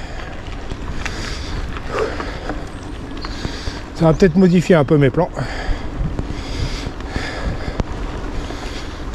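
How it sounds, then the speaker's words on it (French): Strong wind of at least 50 km/h buffets the microphone during a cross-country mountain bike ride, a constant loud rumble and roar, while someone speaks briefly in the middle over it. "Je pensais pas que c'était aussi fort que ça, le vent."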